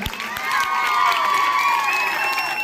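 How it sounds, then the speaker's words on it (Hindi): An audience at a school's annual result ceremony breaks into clapping mixed with high, sustained cheering and shouting, swelling loudly after a brief start and holding steady to the end. "तो आपकी तालियों में आवाज आनी चाहिए ना जी।"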